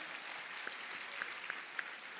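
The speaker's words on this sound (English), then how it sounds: "I think that deserves a much bigger round of applause" Faint, steady patter of applause from a distant crowd, with a few sharper claps standing out from the wash of noise.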